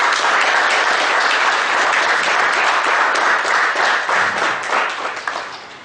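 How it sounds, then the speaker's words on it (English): Loud, close applause from an audience at a seminar on CA exam preparation, a dense continuous wash of clapping that stays strong and then begins to fade in the final second. "Please welcome him with a round of applause."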